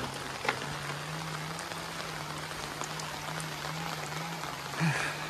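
Heavy rain drums steadily on a plastic sheet sheltering someone beside a stream and maize field, a continuous close patter with a low hum running underneath and a couple of brief knocks.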